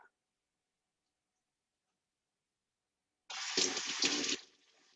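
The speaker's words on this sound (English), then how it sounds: "there's some seeds in there, so just gonna rinse it out" Tap water rinsing seeds out of a cut bell pepper at a kitchen sink, a single splashing gush of about one second after near silence, close and moderately loud.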